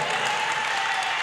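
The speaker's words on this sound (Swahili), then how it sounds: "Mpe Yesu makofi makubwa." A church congregation claps for Jesus during a service, dense sustained applause from a large crowd, steady and fairly loud throughout with no pause.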